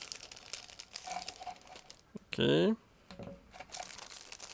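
A plastic bag holding parts of a Meng 1/24 McLaren MP4/4 1988 model kit crinkles and rustles, with one sharp loud crackle midway, while someone talks nearby.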